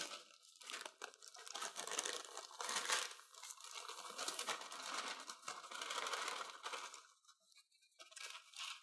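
Dry cookie ingredients for spiced butter jumbles slide and rustle off a sheet of paper into a stand mixer bowl, a quiet, close crinkling and scraping that comes in bursts.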